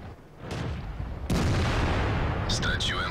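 A heavy SU-122-44 tank cannon blast booms in a video game, followed by a sustained loud rumble and faint electronic beeps near the end.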